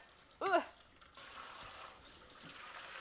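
Hot water runs from a tap to rinse soap out of marigold-dyed wool yarn skeins. A short splash is followed by a steady soft rush of water, close and moderately quiet.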